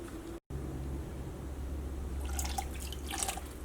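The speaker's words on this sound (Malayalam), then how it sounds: "ഇതിലേക്ക് ഈ സെയിം കപ്പിൽ തന്നെ 3/4 കപ്പ് വെള്ളം ചേർക്കാം" Three-quarters of a cup of water trickles and drips into a pan of sugar against a steady low hum, with a brief dropout near the start and brighter splashy pouring toward the end.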